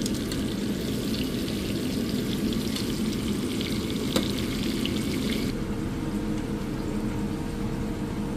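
Continuous crackling and hissing of food frying in a pan, steady and fairly close, with one brief sharp pop midway and no talking.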